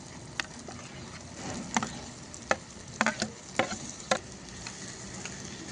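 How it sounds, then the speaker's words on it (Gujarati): Onion being stirred into a frying tomato masala for a dhaba-style curry, a steady sizzle under sharp, irregular scrapes and clicks of a spoon against the pan, close and fairly loud. "તો મિત્રો આવી રીતે આપણે ડુંગળીને અંદર સારી રીતે મિક્સ કરી લેવાની શાક સાથે"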